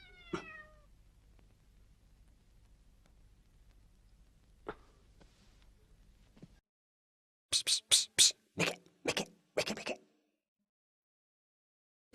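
A single short meow rings out near the start, then a long quiet stretch and later a quick run of sharp, loud knocks.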